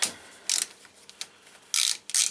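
A ratchet loosening the brake caliper bolts on a 2001-2005 Toyota RAV4: short bursts of rapid metallic clicking, three or four separate runs with quiet gaps between them, close up and with no talk.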